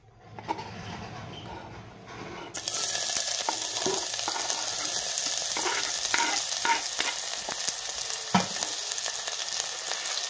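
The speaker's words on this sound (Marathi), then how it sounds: "तेल चांगलं गरम झालं तर आता आपण ह्याच्यामध्ये कांदा घालूयात." Chopped onion dropped into hot oil for a spicy pea and bean curry, the quiet start giving way to a sudden loud, continuous sizzle with occasional stirring knocks close by.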